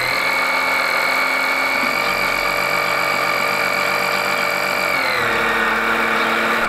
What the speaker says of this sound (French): je sors l'un de mes outils préférés, la pompe à huile électrique